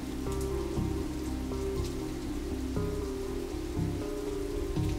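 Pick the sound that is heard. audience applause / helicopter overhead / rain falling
rain falling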